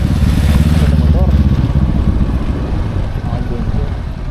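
A motorcycle engine idles steadily close by, a low continuous rumble that holds level throughout, with voices talking over it.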